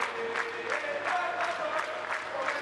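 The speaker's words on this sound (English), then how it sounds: "And those fans have something to cheer about nice and early." A tennis crowd at the Billie Jean King Cup Finals applauds and cheers in a steady, dense wash of clapping that holds for a couple of seconds, close and lively.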